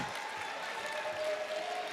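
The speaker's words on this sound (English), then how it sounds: "The arena starts to clap." A large crowd applauds continuously at a Northwestern vs Harvard women's college basketball game, a dense wash of clapping heard from within a big, echoing arena.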